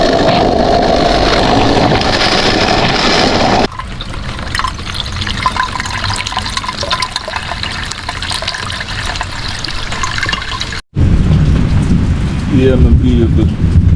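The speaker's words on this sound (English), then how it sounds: "Yeah, my people, started to rain now." Rain falls onto zinc roofing and trees at a village homestead, a steady watery hiss and trickle that shifts in tone partway through and cuts out briefly before returning louder, with someone talking over parts of it.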